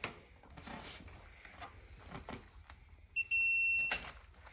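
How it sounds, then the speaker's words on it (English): A bright electronic torque wrench beep holds steadily for under a second, cutting through low mechanical background noise after a stretch of shuffling sounds. "Continuous beep means it's done on this torque wrench."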